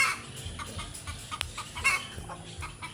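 Hen clucking behind a rural house where she lays her eggs: repeated short clucks at moderate distance, irregular in rhythm, over faint outdoor background noise.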